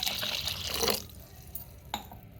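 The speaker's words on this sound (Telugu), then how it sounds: "ఇదిగోండి 1 గ్లాస్ వాటర్ పోతున్నాను" Water pours into a glass for about a second, a brief splashing stream, followed by a couple of faint drips and clinks in a quiet room.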